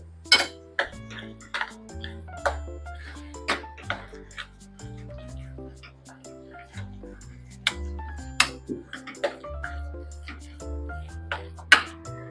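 A vegetable cutlet mixture with ginger-chilli paste and cinnamon-clove powder is stirred in a bowl. A spoon clinks and taps against the bowl in scattered, irregular knocks over soft background music.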